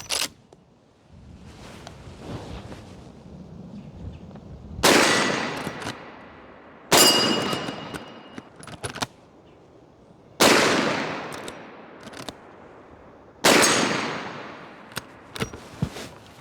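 A Marlin 1894 .44 Magnum lever-action rifle firing cast flat-nose bullets: four loud, sharp shots spaced a few seconds apart, each with a decaying tail, separated by metallic clicks and clatter of cycling the action.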